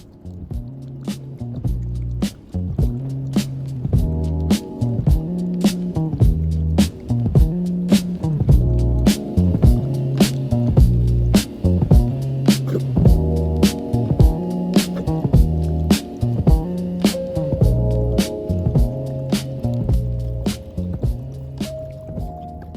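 A dog rapidly laps water from a bowl, steady wet slurps repeating in quick bursts with brief pauses, close and clear.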